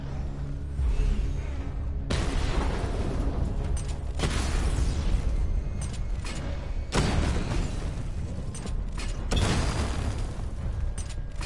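Missile barrage explosions in a Batman video game, a steady stream of loud booming blasts with heavy bursts every couple of seconds and mechanical whirring beneath, no voices.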